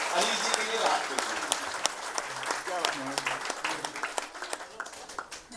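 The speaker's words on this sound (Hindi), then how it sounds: "एक बार सारे मिलकर हाथ खड़े करके सर के लिए तालियां बजाइएगा" An audience at a poets' gathering in the Delhi Legislative Assembly applauds, dense clapping close by that thins toward the end, with voices talking underneath.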